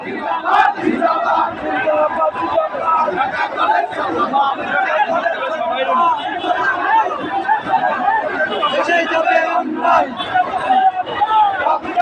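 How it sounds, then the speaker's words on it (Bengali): A large Dhaka College Chhatra Dal procession marches toward the Shaheed Minar, a dense crowd chanting slogans together in loud, continuous rhythmic waves of voices with shouted calls rising above the mass. "আমরা দেখতে পাচ্ছি বিশাল মিছিল শহীদ মিনারের দিকে অগ্রসর হচ্ছে।"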